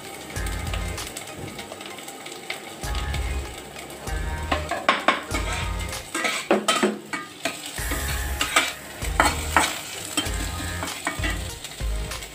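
Chopped onion, ginger, garlic and chili frying in a pan while being stirred, with loud sizzling bursts broken by scraping and clinks of a utensil against the pan, close by and without speech.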